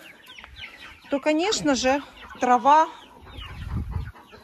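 Free-ranging chickens cluck in short bursts, close by, while a person speaks over them and a low rumble rises near the end.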